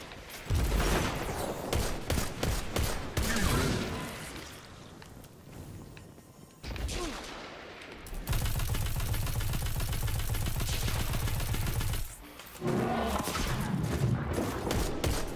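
Sidearm gunfire in the video game Destiny 2, rapid dense volleys of shots mixed with explosions and game effects, loud and nearly continuous with short lulls.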